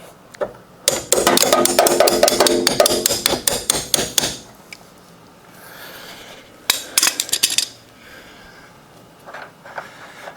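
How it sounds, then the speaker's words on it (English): Metal parts clatter and clank in fast bursts as a leaf spring shackle is fitted back together on a 1970 Ford Mustang Mach 1 suspension, close and loud, with quieter gaps between the rattling spells. "go ahead and put your shackle back together"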